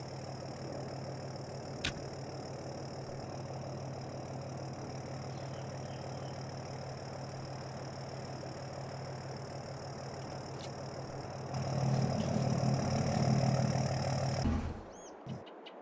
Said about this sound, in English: little John Deere.